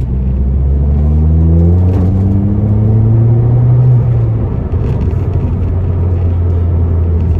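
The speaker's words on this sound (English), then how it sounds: "when you put your foot down in this car, the noise it makes" A car's engine booms loudly as the driver floors the accelerator, a deep droning roar with rising tones that swell over a few seconds, then settle into a steady low rumble, with no talking.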